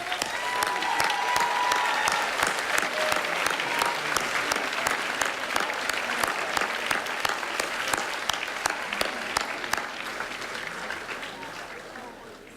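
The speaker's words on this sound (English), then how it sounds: "let's give them a round of applause for all they've done for us" Graduates at a 2016 commencement ceremony applaud their parents and relatives, a long, sustained burst of many hands clapping with sharp individual claps standing out, steady throughout before easing slightly at the end.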